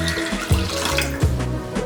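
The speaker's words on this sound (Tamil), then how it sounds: "இதில் தண்ணியும் கொஞ்சம் ஆட் பண்ணிடலாம்." Water poured into a pot for Ada Pradhaman payasam, a Kerala Onam sweet, with rolled rice ada pieces in it; a close, steady splashing pour with a couple of heavier gushes, no talking.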